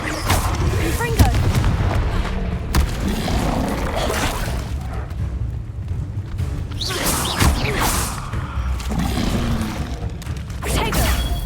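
Confringo blasting spell explosions in Hogwarts Legacy, with several booming blasts and whooshing impacts amid a chaotic fight, loud and close, with game voices shouting over the action.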